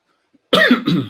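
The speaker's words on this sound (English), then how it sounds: "once in a while I will be coughing a little bit" A single rough cough, fairly close and loud, breaking into two harsh bursts after a moment of silence.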